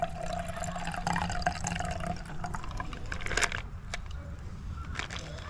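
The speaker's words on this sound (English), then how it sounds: "so I'm just going to pour it in there." A cocktail is poured from a shaker with a built-in strainer into a glass, producing a soft, steady trickle and splash with a few clinks, close and fairly quiet, with no talking.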